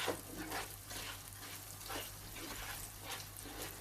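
Rice and lamb being roasted in a pot for kavurma pilaf, giving a soft steady sizzle with a rhythmic stirring scrape roughly every half second, close and moderately quiet, with a low hum underneath.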